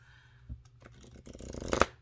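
Cards riffle-shuffled close by, a soft flutter building to a quick, loud burst of cards snapping together near the end.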